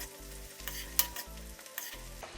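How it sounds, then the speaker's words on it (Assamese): Onions fry in a pan for a meat curry, giving a soft sizzle with occasional stirring clinks, partly covered by steady background music. "পিঁয়াজখিনি ফ্ৰাই হৈ আছে"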